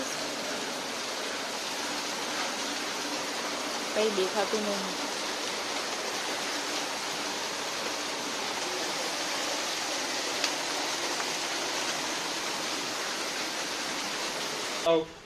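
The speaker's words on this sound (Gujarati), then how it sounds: "બહાર જોરદારનો વરસાદ આવે છે" Heavy rain pours in a dense, constant roar throughout, with a few brief spoken words faintly heard under the downpour.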